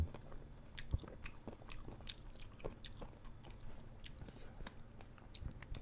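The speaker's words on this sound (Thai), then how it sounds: "มาพี่น้องมากินด้วยกันครับทำเล็บมือนางใส่เศษมาม่านะครับ" Close, quiet chewing and crunching while eating spicy pounded instant-noodle salad with crab claws: irregular crisp bites and clicks over soft mouth sounds, with faint murmuring in the background.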